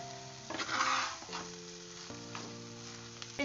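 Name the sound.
stirring and frying mashed boiled potatoes in a pan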